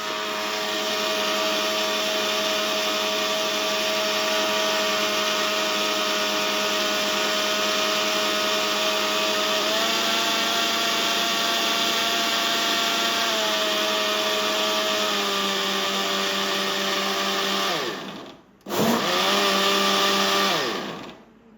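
A kitchen blender whirs steadily while mixing a carrot milkshake, a loud continuous motor hum with a slight pitch shift midway, then it briefly cuts out and restarts near the end, with no talk.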